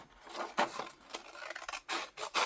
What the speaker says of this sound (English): I'm just going to cut straight up.